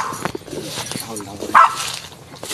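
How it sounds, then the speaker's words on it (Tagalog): A dog barks once, a short sharp yap partway through, mixed in with nearby people talking. "Ang kitang aso nyo ah."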